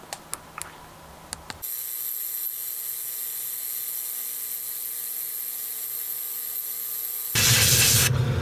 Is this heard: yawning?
no